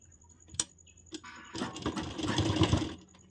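A sewing machine runs a double line of stitching on a blouse seam, a couple of short taps first, then a steady close run of whirring that builds over the last half of the clip.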